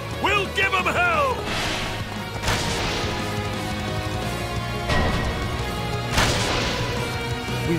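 Heavy booming impacts from artillery in Fire Emblem Warriors: Three Hopes, several loud crashing blasts spaced a second or two apart over a droning battle background, with voices speaking during the barrage.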